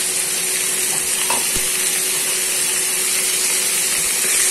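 Chopped chillies with coriander and curry leaves sauté in a frying pan, giving a loud, dense, steady sizzling hiss close by, with a faint knock of the spatula partway through.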